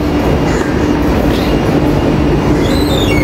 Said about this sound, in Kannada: ಈಗ ಅದು ಒಂದು ಮೆಟ್ರೋ ಬಂದು ನಿಂತದ